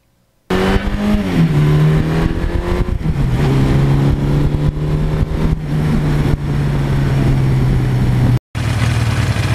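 A Suzuki GS1100E motorcycle with upgraded steel brake lines rides on back roads, its engine droning loud and steady with a shift in pitch early on, running continuously under the rider with only a brief cut near the end.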